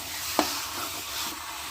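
Chicken cubes tossed with spices on high heat in a pan for a homestyle curry give a continuous sizzle with one sharp utensil knock near the start and soft stirring after, close and alone.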